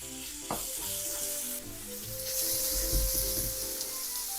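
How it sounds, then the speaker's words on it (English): Pork sizzles and crackles steadily as it is stir-fried with garlic in a hot pan, with occasional scraping from stirring, close and continuous. "I'm going to keep stir frying like this."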